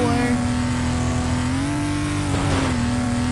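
A semi truck's engine drones and revs steadily in the Demolition Derby 3 racing game, a loud continuous tone that dips and climbs slightly, with faint tire noise and light talk over it.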